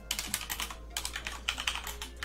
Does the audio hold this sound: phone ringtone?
no